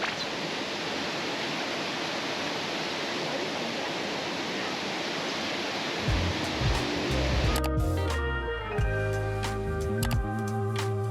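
A waterfall near Chiang Dao in northern Thailand, a steady broad roar of falling water heard close and alone for most of the stretch, then partly covered by handling noise and clunks toward the end.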